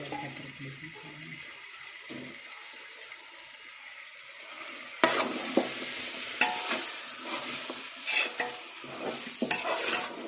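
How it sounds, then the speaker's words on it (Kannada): Mutton pieces added to a hot pan for biryani and stirred, first a soft low scrape, then loud close sizzling frying with repeated sharp spatula clinks and scrapes across the pan. "ಈಗ ಮಟನ್ ಆ್ಯಡ್ ಮಾಡ್ತಾ ಇದ್ದೀವಿ."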